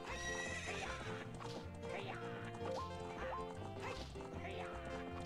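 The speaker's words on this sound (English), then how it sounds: "Stop hitting the horse, Link." A horse whinnies repeatedly while galloping in Ocarina of Time, its neighs sitting over a steady, busy game music bed at close, fairly loud level.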